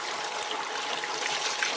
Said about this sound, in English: I'm just going to pour my stock through the strainer